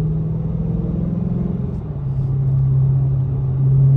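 A 2023 Dodge Challenger Scat Pack fitted with Dynomax Race Bullets rumbles deep and close, downshifting with a brief dip before the exhaust swells back up under light acceleration.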